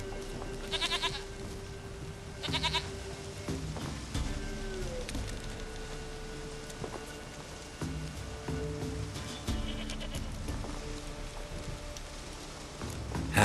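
A goat in The Witcher 3: Wild Hunt bleats twice in short, close bursts over a quiet, rainy outdoor game ambience, then the scene settles into soft background noise.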